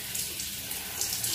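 A tap runs steadily as a washcloth is rinsed under cold water at a sink, a close, continuous splashing hiss with no talk.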